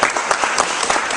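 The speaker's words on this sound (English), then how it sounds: "Let's give the National Capital Ensemble a big round of applause." A crowd at an Angel Tree distribution ceremony in a DC warehouse applauds the National Capital Ensemble band, loud dense clapping that carries on steadily through the brief moment.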